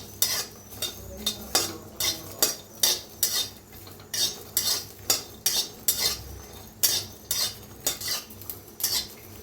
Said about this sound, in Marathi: तर लसूण मिरची चांगली भाजून घेऊया डाग पडूस्तर।